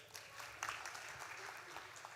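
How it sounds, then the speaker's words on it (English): Audience applause for Simon at a post-budget dialogue, a short burst of dense clapping from a seated crowd, fairly faint and distant, lasting only a couple of seconds. "Clap for Simon"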